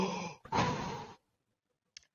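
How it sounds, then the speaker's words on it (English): Deep open-mouth breaths in Wim Hof style breathwork, two long, close, forceful exhalations separated by a short pause, followed by silence and a brief faint sound at the end. "I'm doing 30 to 40 open mouth breaths."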